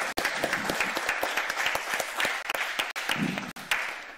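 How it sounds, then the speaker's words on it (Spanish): Applause from an audience at an extraordinary council session, a brief burst of many hands clapping with a few sharp individual claps standing out and short dips where the clapping briefly thins. "Es un aplauso sincero"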